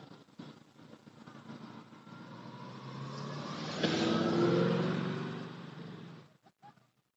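A Dodge Hellcat engine at a casual cars and coffee meet, rising from a low rumble into a louder rev that swells and then fades as the car passes.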